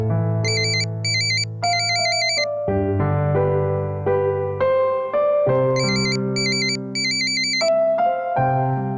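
A phone ringtone plays as a call is placed to a father: a loud, steady electronic melody of sustained tones with bursts of bright high chirps, repeating without any voices.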